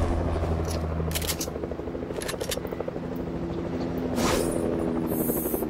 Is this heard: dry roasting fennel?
no